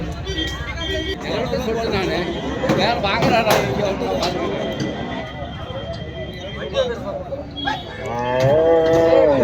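Large dairy cows moo several times, loud and close, over a busy background of people chattering and farmyard noise at a cattle sale.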